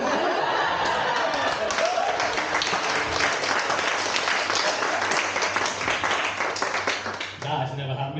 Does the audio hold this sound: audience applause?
yes